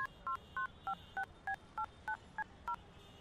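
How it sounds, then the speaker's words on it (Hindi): Telephone keypad being dialed, about ten crisp DTMF tones in a quick even rhythm, each beep short and clear against a quiet background with no speech. "इसके बाप को फोन लगाओ।"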